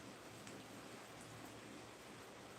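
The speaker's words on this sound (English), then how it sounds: "Oh, it's raining." Faint, steady rain falls outdoors with a soft, even hiss that holds without a break.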